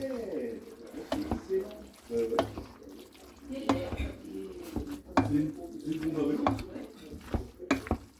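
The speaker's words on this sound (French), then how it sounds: "Et maintenant, on remue." Spaghetti is stirred in a pan, with close scraping and sloshing strokes and a light sizzle, mixed with quiet talk between people.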